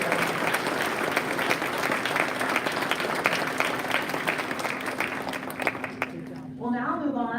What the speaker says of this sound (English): Round of applause for our 8th grade